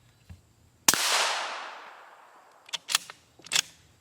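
A 5.56 M193 rifle round fired from a 22-inch barrel at a Level IV armor plate gives one sharp, loud crack followed by a long decaying echo, then a few smaller clanks and impacts.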